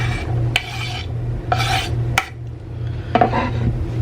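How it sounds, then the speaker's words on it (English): Chopped onion goes into a pan for a chicken tortelloni casserole and is stirred, making a few short scraping sweeps of a utensil against the pan, close and distinct, with no talking. "Now I'm going to put the onion in there."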